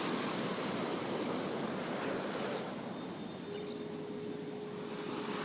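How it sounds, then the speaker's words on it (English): Ocean waves at Santa Cruz beach, a loud, steady roar of surf with wind buffeting the microphone, continuous throughout with no voices. "I wish you could see the waves in person."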